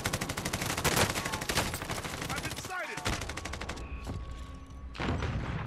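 Automatic gunfire in a Warzone battle royale match, loud rapid bursts of shots in quick rhythm, a brief whooshing pass midway, then more volleys resuming toward the end.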